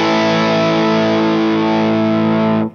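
Electric guitar chord strummed through a Lighthouse Instruments effect pedal, a thick, fuzzy distorted chord that sustains loudly for nearly three seconds and then cuts off abruptly.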